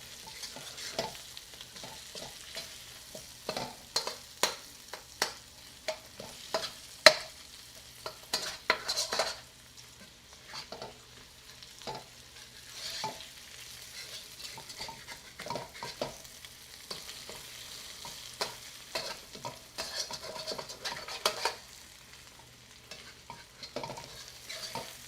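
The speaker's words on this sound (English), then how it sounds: "Shallots are starting to get translucent." Shallots frying in a pan with a faint steady sizzle under repeated scraping strokes of a utensil stirring them, close and fairly quiet, no talk.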